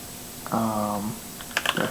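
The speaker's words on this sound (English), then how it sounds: "if we start typing" Quick clicks of computer keyboard typing come in bursts near the end, after a short tonal beep, close and fairly loud with no talk.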